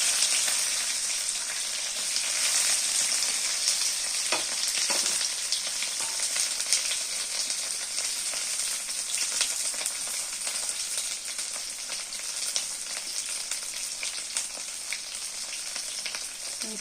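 Onions sizzle in hot oil in a pan while cooking chilli paneer, a continuous close frying hiss with faint crackles and occasional stirring scrapes, and no voices.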